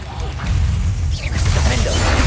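A Confringo blasting spell cast in the fantasy game Hogwarts Legacy, a loud burst of crackling, shattering impact with whooshing magical energy and low rumbling battle noise, continuing through the clip.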